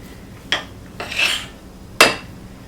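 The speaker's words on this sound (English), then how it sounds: "So we're going to go ahead and stir that around, get everything incorporated here." A spoon scrapes through a sticky honey and peanut butter mixture in a bowl, three short rasping strokes with quiet pauses between them, heard up close with no talking.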